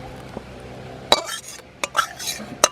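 Hot chhena curdled from milk powder tips from a pan into a cotton gamchha cloth for spongy rasgulla, a few sharp metallic clanks and scrapes of the pan over a quiet background.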